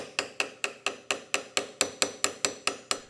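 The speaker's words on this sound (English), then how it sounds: "it holds it when I set the stone using my setting tool" A setting tool taps a stone into sterling silver, giving a dozen evenly spaced, sharp metallic ticks close up in a steady rhythm, with no talking.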